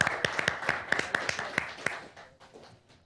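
A small group clapping together in a quick, scattered burst that thins out and fades after about two seconds.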